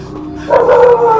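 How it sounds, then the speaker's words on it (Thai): Dogs barking in the mobile game Identity V, a burst of yipping barks rising over a low game backdrop, moderately loud, with no talk over it. "โอ้ยหมาเห่ากันนทุกคนรีบไปดีกว่า"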